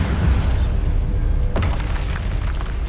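A Bombarda explosion spell goes off in Hogwarts Legacy, one sharp booming blast midway through, ringing out over a constant low rumble of game ambience.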